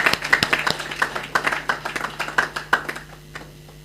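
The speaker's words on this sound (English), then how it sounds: "Let's give ourselves a hand of applause" A small conference audience at a financial side-event meeting claps briefly, distinct individual hand claps in a loose, uneven rhythm that thins out and fades to quiet near the end.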